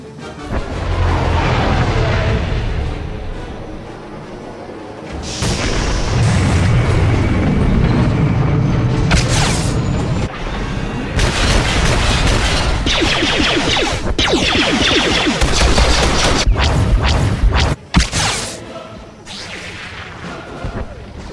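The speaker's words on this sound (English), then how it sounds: "Enemy artillery incoming!" Enemy artillery pounds the Meridian Complex in Star Wars: The Old Republic, with repeated loud booms, crashing impacts and whooshing blasts over a roaring battle bed that lasts about twenty seconds and ends in one sharp final hit.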